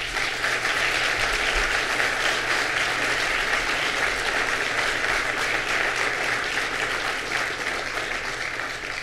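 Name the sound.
audience applause at governor's announcement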